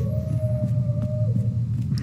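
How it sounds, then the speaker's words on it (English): Dog howling in the survival horror video game Resident Evil 2, a sustained drawn-out howl over a heavy low rumble of game ambience, with no talk. "Oh my god, I hear more dogs."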